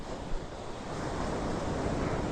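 Ocean waves break and wash up on a sunny California beach, a continuous broad surf roar with wind noise, steady and fairly close with no talk.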